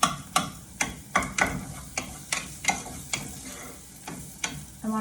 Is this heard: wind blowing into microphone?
no